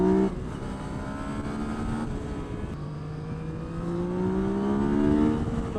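A 2017 Yamaha MT-09 motorcycle engine revs with the throttle held open. Its rising and falling engine tones are steady and close, swelling toward the end, with no speech.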